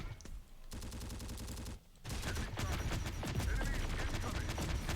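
A Bradley autocannon in the Terminator Dark Fate: Defiance game fires a rapid burst of rhythmic shots, then, after a brief gap, continuous loud explosions and gunfire clatter.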